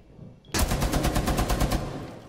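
Rapid automatic gunfire in a shooting video game, a loud, evenly spaced burst of about a dozen shots that starts abruptly after a brief quiet moment.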